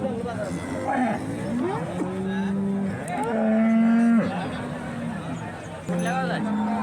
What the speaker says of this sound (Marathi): ही तीन महिन्याची गाभण गाय आहे आणि दूध पण चालू आहे